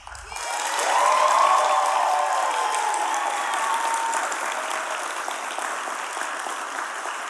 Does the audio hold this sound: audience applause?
yes